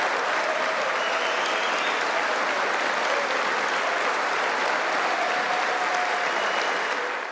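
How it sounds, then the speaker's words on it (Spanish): A long, sustained ovation for Venezuela's interim president Juan Guaidó, a dense wall of clapping from a large crowd, steady and loud from start to finish. "Con el saludo de Trump llegó una larga ovación por parte de todos los presentes al mandatario interino de Venezuela."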